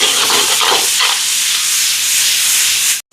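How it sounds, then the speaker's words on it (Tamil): Onions and ginger garlic paste sauté in a pan for a chicken curry, giving a loud, steady, close broadband hiss with a few faint stirring scrapes early on, cutting off abruptly near the end. "வெங்காயம் எல்லாம் வதங்குது பாருங்க"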